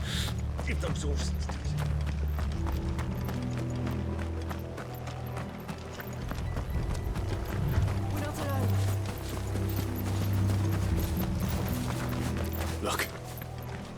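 Several horses gallop in the Final Fantasy XVI video game, their rapid clip-clop hoofbeats running steadily under a tense score, with a voice speaking briefly over the ride.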